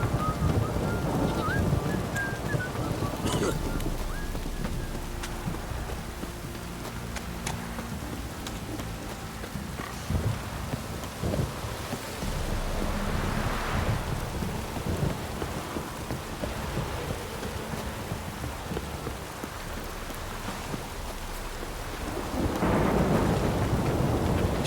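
Heavy rain pours steadily while deep thunder rumbles and rolls several times, loud and close, with gusts of wind noise and no voices, in the video game The Witcher.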